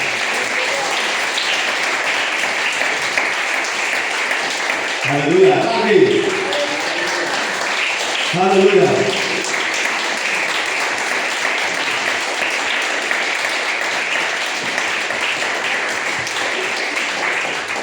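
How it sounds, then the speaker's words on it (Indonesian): Church congregation applauding during a sermon, a steady broadband clapping wash lasting the whole stretch, with a preacher's voice and brief vocal calls rising over it mid-way. "Ayo kita tepuk tangan untuk Raja di atas segalanya."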